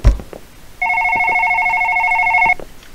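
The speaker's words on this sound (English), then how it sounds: "Answer this damn phone." A single loud electronic telephone ring in the horror game One Late Night, a steady two-tone trill lasting nearly two seconds, close and clear, set against a quiet background.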